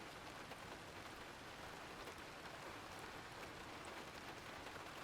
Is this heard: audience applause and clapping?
no